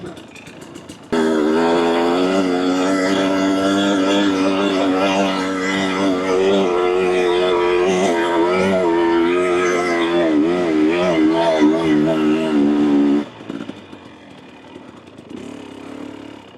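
A 2024 Husqvarna TE250 dirt bike fitted with an FMF Turbine Core 2.1 exhaust revs hard and accelerates through third gear on a trail, a loud, close, rising and falling two-stroke engine roar that lasts about twelve seconds before dropping back to a low idle.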